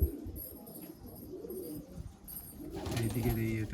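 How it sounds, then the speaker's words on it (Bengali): A pigeon coos in low, soft murmuring phrases close by, with other birds faintly chirping in the background and a short stretch of louder, layered cooing near the end. "এই দেখুন এই পায়রাটা দেখুন"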